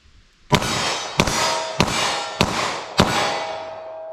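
Five sharp gunshots from a snub nose revolver firing 9mm, spaced roughly evenly about two-thirds of a second apart, each a loud crack followed by a ringing decay.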